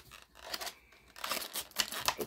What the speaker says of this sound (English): I got the handy-dandy scissors here.